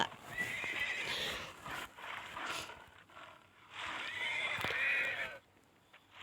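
Horses at a zoo neigh and whinny loudly in two long bouts, with some clip-clop of hooves and faint background sound between calls.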